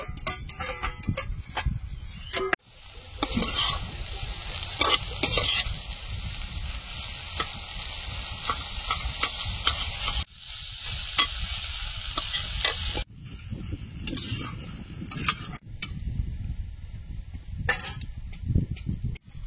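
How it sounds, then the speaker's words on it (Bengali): Saag greens fry in a pan with onion, slit green chillies and a little salt, giving a steady close sizzle broken by stirring scrapes and a few brief pauses. "শাক ভাজাটা হয়ে গেছে, প্লেটে তুলে নেব।"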